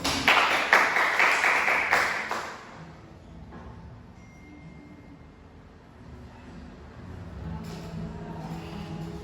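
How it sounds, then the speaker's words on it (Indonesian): Children in a classroom clap together in a brisk burst of quick, bright handclaps lasting a couple of seconds, then it fades into quiet room murmur and faint background noise. "Beri tepuk tangan dulu."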